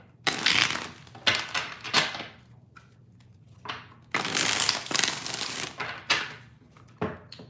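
A tarot deck is riffled and shuffled repeatedly, close-up bursts of crisp papery rustling separated by short pauses, with no voices.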